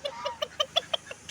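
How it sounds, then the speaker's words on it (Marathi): A duck at a hotel property near an Alibag beach gives a quick series of about eight short, nasal quacks in an even rhythm, close and clear, with no talking. "असे बदक आहे भावांना इकडे, मस्त सुंदरशी बदक."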